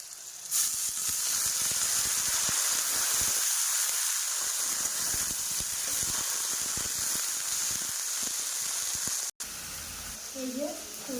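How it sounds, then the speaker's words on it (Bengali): Mustard flowers added to a pan of fried garlic and chili sizzle with a steady, loud hiss throughout, with a brief cut near the end. "ভেজে তারপরে ফুলটা দিয়ে ভাজবো"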